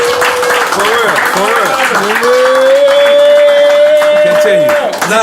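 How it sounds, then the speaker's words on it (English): A studio audience claps and cheers in a steady, dense wash of applause, with a sustained voice-like tone rising over it and people talking. "Everybody make noise and clap for that."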